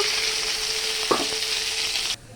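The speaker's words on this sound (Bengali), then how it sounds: "মাছটা হালকা করে ভেজে নিলাম।" Katla fish sizzles steadily in hot oil, a continuous bright frying hiss with one brief utensil scrape midway before the sound cuts off near the end.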